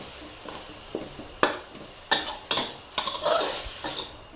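Minced pork with chili and garlic stir-fried in a pan, with scattered scraping spatula strokes and light sizzling, close and fairly quiet, no talk.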